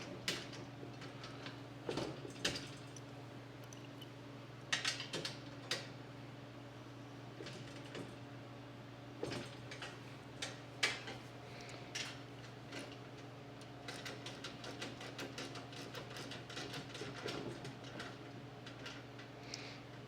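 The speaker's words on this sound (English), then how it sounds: "So this wrench right here, ratchet, ain't the wrench, it's the ratchet." A Craftsman ratchet ticks in scattered, quiet bursts of fine clicks while bolts are tightened on a Harbor Freight cargo carrier, under a steady low background hum.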